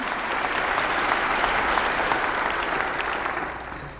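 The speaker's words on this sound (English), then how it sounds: "Please give them a round of applause." A crowd applauds the pianist and sign language interpreters at a university winter commencement ceremony, a full, sustained wash of clapping in a large hall that tapers off near the end.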